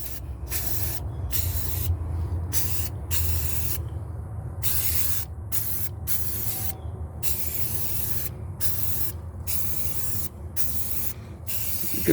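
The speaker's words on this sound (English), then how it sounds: "We'll do some spraying here." Aerosol can spraying black semi-gloss paint onto a primered, welded frame area of a 1998 Ford Ranger 4x4, heard as repeated close hissing bursts of varying length separated by brief pauses.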